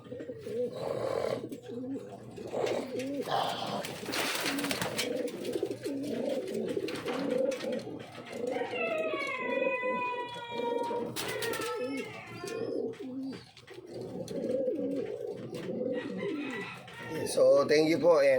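Pigeons cooing and calling close by over a steady low murmur, with bursts of higher chirps in the middle and a brief rustle near the end.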